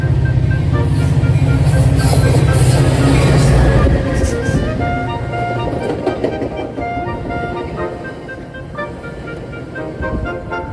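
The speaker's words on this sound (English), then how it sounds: "Next was another outbound Metra train with an F40" An outbound Metra commuter train led by an F40PH-3 diesel locomotive rolls past with a loud, low engine drone that fades away, leaving rumbling wheel noise and tonal squeals as it recedes.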